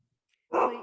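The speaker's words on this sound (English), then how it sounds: "Please excuse my dog." A single dog gives one short, sharp bark after near silence, close and moderately loud.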